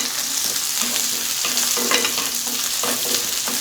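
Small onions, about ten to fifteen, sizzle steadily in a pan for mutton curry, with occasional stirring scrapes over a continuous close frying hiss; no voices.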